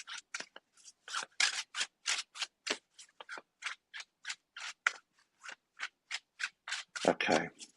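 A deck of cards gets shuffled repeatedly up close, with quick papery riffling bursts in a steady broken rhythm and a longer flurry near the end. The setting is quiet between the bursts.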